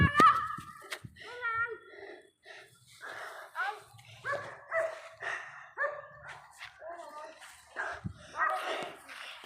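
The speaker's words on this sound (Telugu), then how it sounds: "అది డేంజర్ కుక్కలు." A few dogs bark and yip in short bursts, with whimpering calls and a pause between groups, fairly close in otherwise quiet surroundings.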